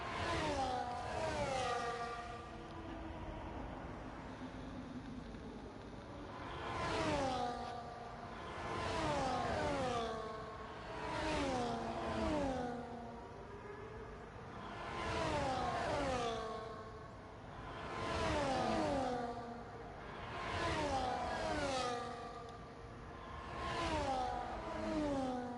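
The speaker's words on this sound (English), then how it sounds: "to start our formation lap, get the tires up to temperature here" Race cars on the Albert Park circuit in a racing video game roll through a formation lap, engines repeatedly rising and falling in pitch as they accelerate and pass, a steady droning pack with no talk.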